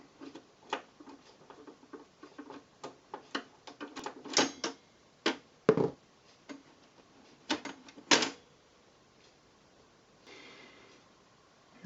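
Screws being removed from the panel of a Revox B77 tape recorder: scattered small metallic clicks, taps and ticks from a screwdriver, close and intermittent, with quiet gaps between and no speech.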